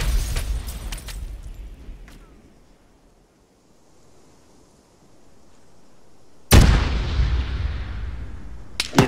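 A grenade goes off in ARMA 3: a sudden loud broadband blast that decays over a couple of seconds, followed by a sharp crack at the end, after a quieter stretch with distant pops and rumble.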